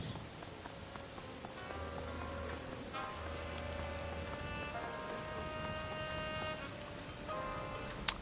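Rain in the video game Shadowrun Hong Kong, falling as a constant soft patter under sustained synth music tones, with a sharp click right at the end.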